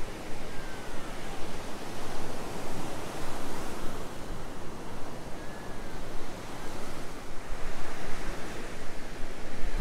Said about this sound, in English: Tide is continuing to rise. Waves are getting closer.